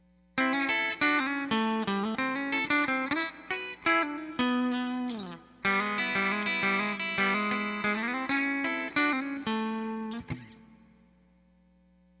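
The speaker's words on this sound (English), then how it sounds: "So this is the bridge position on a clean setting with a little bit of reverb." A clean electric guitar, a First Act ME301 on its bridge pickup, with a bright, twangy tone plays a run of plucked notes and chords, with a light reverb tail as the last note rings out.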